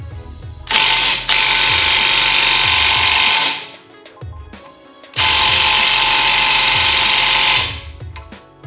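Two long, loud bursts of a small cordless impact wrench hammering at a socket on a stubborn nut, each lasting a few seconds with a brief quieter pause between them, close and without speech.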